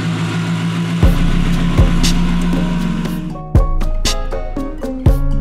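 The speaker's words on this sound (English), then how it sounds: "Loud pipe, sounds incredible." Mercedes 126 Koenig SEC (Gen II Koenig Specials) with a loud exhaust, idling with a deep, steady rumble, broken by several sharp throttle blips, close and loud.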